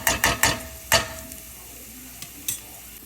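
Garlic slices fry in olive oil under a soft, faint sizzle, broken by several sharp utensil clinks and taps early on and a couple of lighter knocks later.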